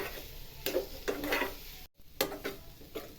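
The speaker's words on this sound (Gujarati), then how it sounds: "દૂધ એડ કર્યા પછી ધીમે ધીમે હલાવો" Sukhadi mixture stirred with added milk in a pan, giving soft scraping strokes with a faint sizzle, a few distinct swipes close by, one brief gap midway.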